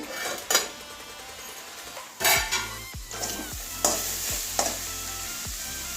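Crushed garlic and mustard greens fry in a pan with a steady sizzle, broken by several sharp scrapes and clinks of a spatula stirring against the metal; close and moderately loud, with no talking.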